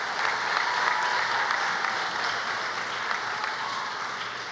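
An audience gives elected officials a dense, sustained round of applause at a Hebrew Academy event, clapping steady and full-sounding throughout, easing slightly near the end.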